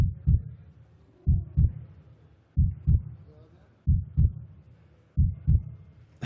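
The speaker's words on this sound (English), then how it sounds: "I think they do the heartbeat thing on purpose in the background just to make everybody there nervous." A heartbeat sound effect plays over the arena system at a STIHL Timbersports Pro Nations Cup event, steady double thumps about every 1.3 seconds, low and throbbing, with faint background murmur between beats.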